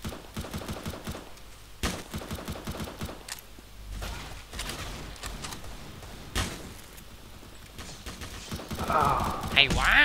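Sharp gunshots in the Roblox game Counter Blox crack out a few times, scattered amid steady voices talking over a busy game soundtrack.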